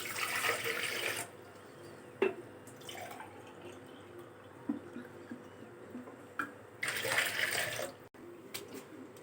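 Water is poured into two glasses for black currant sharbat: two steady splashing bursts of pouring, with drips and small clinks between, close and alone.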